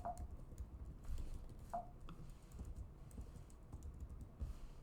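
Keys tapped on a computer keyboard at an M2 Mac Mini during a macOS setup, a quiet scattering of soft clicks and taps over a low room hum, close but faint, with no talk.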